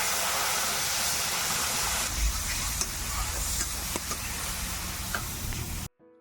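Whole cumin seeds and spice paste sizzle in hot oil for a cauliflower dish, a steady close frying hiss with small pops and a stir scrape, ending abruptly.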